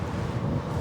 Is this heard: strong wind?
yes